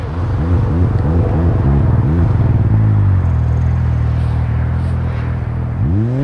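A Yamaha VMAX 4 snowmobile with a muffler and stock tune, its engine running loud and close with a pulsing, throbbing idle that settles into a steady drone before a brief rev at the end.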